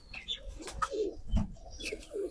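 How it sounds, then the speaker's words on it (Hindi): Soft low pigeon coos from a female pigeon of the asal chohy breed, a few brief murmuring calls close by with faint chirps and light rustling around them. "माशाल्लाह अच्छी कबूतरी है।"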